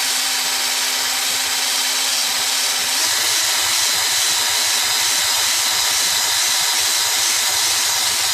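WD-40 is sprayed onto a part of a Murray push mower in one long, continuous loud hiss, heard close with nothing else over it.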